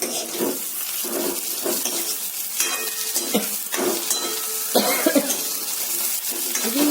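Jackfruit pieces fry in a pan with a steady close sizzle, broken by scraping stirs and a few clattering knocks.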